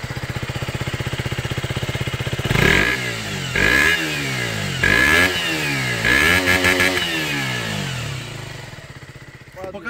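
A KTM RC 125 motorcycle engine idles, then gets revved in several quick throttle blips with slightly delayed response, each rising and falling in pitch, close and loud, before settling back to idle.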